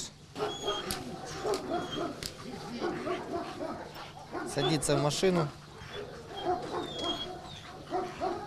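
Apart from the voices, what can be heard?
dog barking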